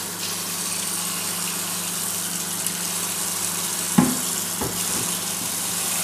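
Steady broadband rush of hot water pouring from a tap, continuous and close, with a couple of brief clunks near the end.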